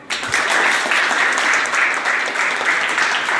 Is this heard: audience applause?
yes